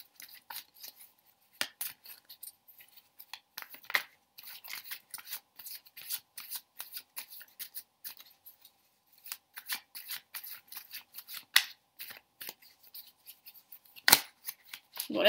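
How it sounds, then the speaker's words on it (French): Tarot deck being shuffled by hand, with soft, irregular crisp rustles and card slaps scattered across quiet pauses, faint and close with no talking. "Donc vous mélangez vos cartes en vous concentrant sur la question."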